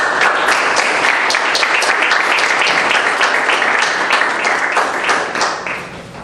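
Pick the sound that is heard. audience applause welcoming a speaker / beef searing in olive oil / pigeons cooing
audience applause welcoming a speaker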